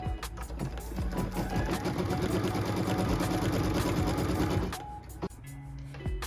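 Close sewing machine stitches a tack-down line on quilt block fabric, a steady whirring run of fast needle pulses with occasional clicks and handling knocks before it winds down.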